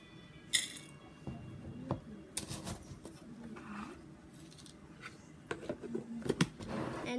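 Hamster food being spooned into a container, a quiet scatter of small crisp clinks and rattling pellets with a few sharper taps of the spoon, close and intermittent.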